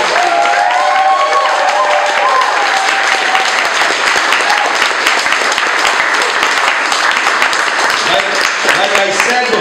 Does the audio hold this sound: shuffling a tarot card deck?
no